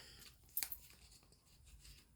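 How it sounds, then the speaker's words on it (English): A single quick snip of scissors cutting paper, close and brief, with soft rustling before and after in a quiet room. "I'm going to cut away the excess. with some regular scissors."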